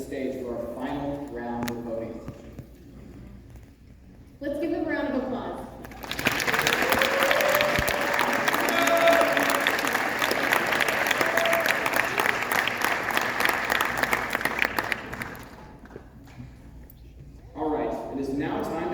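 Audience applause for contestants at a university pageant, a loud sustained burst of clapping and cheering lasting about ten seconds, framed by a presenter speaking before and after.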